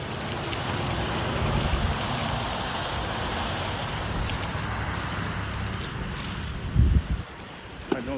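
Steady wind roaring past while riding a Begode EX20S electric unicycle on snowy back roads in winter, a constant broadband rush held throughout, with a few brief thumps near the end.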